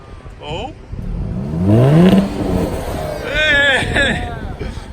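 Car engine revs up loudly nearby in a rising, falling sweep on a coastal outing near Laguna Beach, with excited voices and chatter over and around it and some wind noise.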